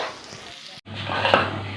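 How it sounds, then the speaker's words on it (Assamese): Onions frying in a pan in a home kitchen, added after potatoes for a chicken gravy: a steady close sizzle with light stirring scrapes, briefly cut silent, then a louder hiss. "এতিয়া পিঁয়াজখিনি ভাজি আছোঁ"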